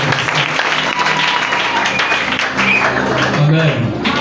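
An evangelical convention congregation applauds loudly and continuously, a dense wash of clapping and crowd noise filling the hall with no pause.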